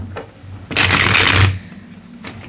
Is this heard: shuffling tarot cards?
yes